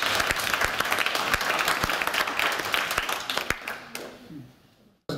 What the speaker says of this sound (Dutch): En geef ze een enorm applaus, dames en heren.